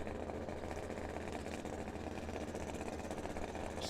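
A drag racing car's engine spools up at a trackside teams race at Firebird Motorsports Park, a steady, dense, loud roar that holds without a break.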